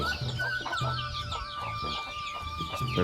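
Hens clucking inside a coop where they come in to lay eggs, repeated short clucks from several birds close by, with a thin high whine running steadily behind them.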